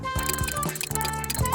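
Cranking a toy bubble machine produces a steady run of ratcheting clicks and whirring gear noise at close range over soft background sound.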